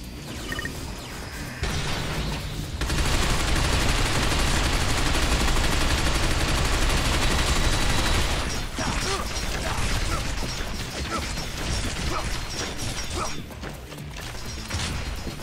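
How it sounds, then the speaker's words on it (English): Gunfire in the Binary Domain shooter game, a dense stretch of crackling shots and crashing impacts that swells loud for several seconds, then continues more unevenly, with no voices. "I hear gunshots in the distance"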